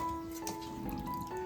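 Water drips and trickles softly while fresh clams from a creek are rinsed clean, faint splashy drops over a low, steady background.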